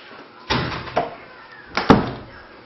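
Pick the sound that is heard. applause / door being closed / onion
door being closed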